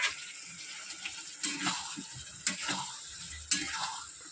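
Potatoes sautéed in a pan at home, with quiet stirring scrapes and a faint sizzle, broken by three sharper clatters of a spatula against the pan at regular intervals.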